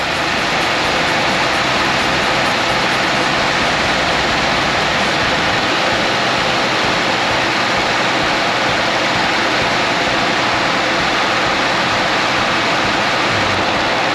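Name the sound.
2009 car engine running with cooling fans blowing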